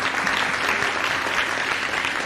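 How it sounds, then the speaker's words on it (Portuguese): An audience at a poetry, cordel and rap panel at the FLIN 2017 festival claps in a steady, dense burst of applause that stays even and fairly loud for the whole moment. "Desculpa, pode aplaudir."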